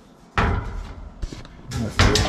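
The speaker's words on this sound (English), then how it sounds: "Door." Inside a mobile home under renovation, a door is pushed shut with a heavy thud and rattle, followed by more knocking and shuffling bumps nearby, with no talking.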